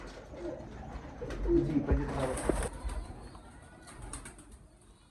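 Large breeder pigeons coo in soft, low bursts close by, with wing flutters and someone speaking briefly over them.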